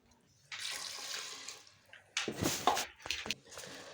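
White and red beans are washed by hand in a bowl of water, with close bursts of splashing and sloshing. A longer swirl comes first, then a few short, choppy splashes, with no voices.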